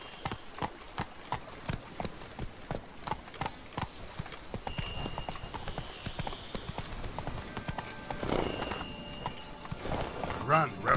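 Roach, a horse in The Witcher 3 Wild Hunt, gallops with rapid, rhythmic clip-clop hoofbeats throughout, joined by a brief neigh near the end and some game ambience.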